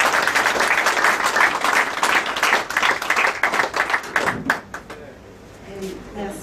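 Audience applause greets a woman invited to take the microphone at an evening ceremony, sustained clapping that fades out over the last two seconds.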